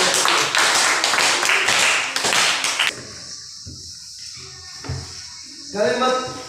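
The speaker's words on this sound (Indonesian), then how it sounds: "Tepuk tangan dulu untuk kelompok ini." Brief burst of classroom applause for a student group, a few seconds of dense clapping that stops abruptly, followed by quieter room sounds and a teacher speaking.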